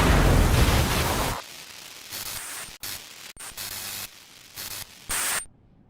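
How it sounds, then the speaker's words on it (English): Coral rifle firing in the video game Armored Core 6: a loud roaring blast of noise for over a second, followed by quieter crackles, short bursts and a high whine before fading out. "The last sound you hear is the sound of a coral rifle going off"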